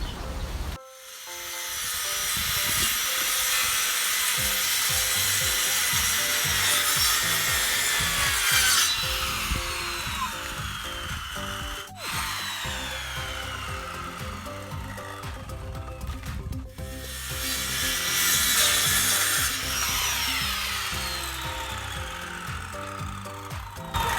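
Wood being hand-sawn for a backyard chicken coop, a long run of close, loud rasping back-and-forth strokes with brief pauses and a snap near the end, with no voices.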